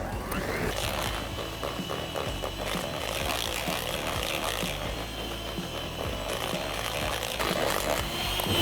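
A stand mixer beats vanilla cupcake batter, a continuous close mechanical whir with rhythmic rattling and scraping that carries on without a break.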